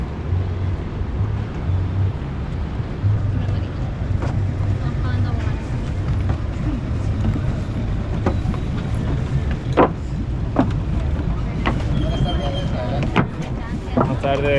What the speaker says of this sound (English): We chose to take a boat ride, which was very cheap and fast.